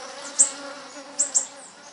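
City bees buzz softly in a low, steady drone, while a few brief, sharp high chirps break through it.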